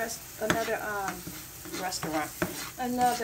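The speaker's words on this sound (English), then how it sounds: "Peppers and onions are cooking." Peppers and onions cook in a pan for tuna casserole, a soft sizzle broken by several quick stirring scrapes over about three seconds.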